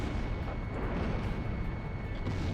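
Enemy gunfire in the Ace Combat Zero air-combat game, a dense continuous rumble of rapid shots and distant bursts running steadily throughout, with no talk.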